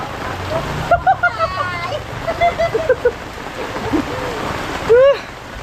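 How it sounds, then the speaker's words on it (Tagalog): Strong wind roars steadily with broadband rushing noise, while several people talk and shout excitedly over it nearby. "Nakakatakot yung hangin na yun, ah."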